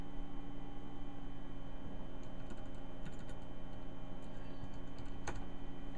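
Fingers tapping out a command on a computer keyboard while rooting an Asus Transformer tablet: light, quick clicks in short bursts, faint against a steady electrical hum.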